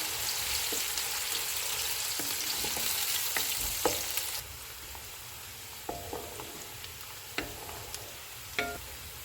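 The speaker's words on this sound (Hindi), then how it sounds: "प्याज डालेंगे, इनको 1 से 2 मिनट तक फ्राई करेंगे।" Onions sizzle loudly in hot oil, the hiss easing partway through, with occasional clicks and scrapes of a utensil against the pan.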